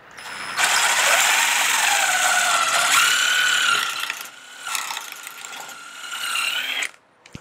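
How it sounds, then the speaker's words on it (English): Pocket holes being drilled into a board with a Kreg jig in a workshop, a loud continuous whirring drill bite that holds steady for several seconds, then eases into shorter, fainter bursts before stopping. "And now we're going to drill our holes"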